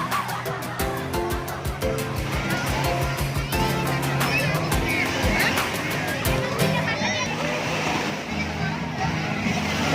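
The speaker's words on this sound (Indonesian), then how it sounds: "Kolam ombak." Busy wave pool at a water park in Purbalingga, with continuous splashing water under loud crowd babble and children shouting, a dense, steady wash of noise throughout.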